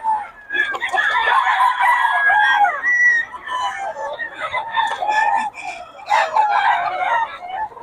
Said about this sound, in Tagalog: Hoy, quality mga manok ni Boss Gaga, mga idol